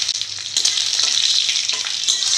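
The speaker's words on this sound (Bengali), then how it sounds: "তেল গরম হয়ে গেছে, 5 ফোড়ন দিয়ে দিব" Panch phoron five-spice, dried red chili and bay leaf hit hot oil with a loud, bright, continuous sizzle and faint stirring taps, close to the pan.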